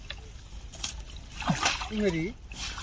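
A rowed boat moves on the Jamuna river, water splashing and sloshing in a couple of close bursts, with someone talking over it.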